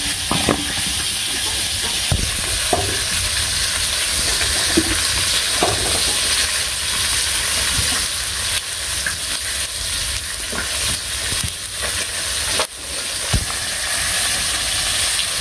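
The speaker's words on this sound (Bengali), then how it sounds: "এখন এই আলুগুলো ভাজা দিয়ে নই" Potatoes frying in a pan of hot oil during simple village cooking: a steady, loud sizzle throughout, with occasional soft clinks and stirs of a utensil.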